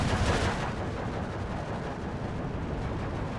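T-34-76 tank fire in the WWII strategy game Steel Division 2, a heavy boom at the start fading into a sustained rumbling roar of battle, loud and without speech.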